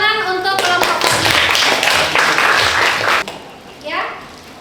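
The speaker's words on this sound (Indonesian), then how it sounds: "Tepuk tangan untuk kelompok Fadli." Classroom group clapping for a student team in an Indonesian religious-studies lesson, a loud burst of many hands that cuts off abruptly after about three seconds, followed by a short spoken phrase.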